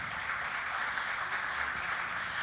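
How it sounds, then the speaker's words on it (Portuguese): An audience at a cultivation knowledge talk in Brazil applauds a speaker's introduction. The clapping is even, sustained and fairly soft, blending into a continuous hiss of many hands with no voices over it. "Salva de palmas para o Alan."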